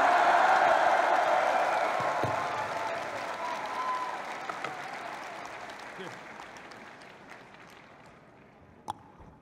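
A crowd applauds steadily at a political party's third anniversary event in Korea. The clapping is loudest at the start and gradually dies down, with an announcer speaking over it.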